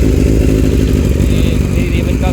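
Kawasaki Z900 motorcycle fitted with an SC Project exhaust idling loud and steady just after a cold start, a deep rumbling burble that runs throughout with a person talking over it.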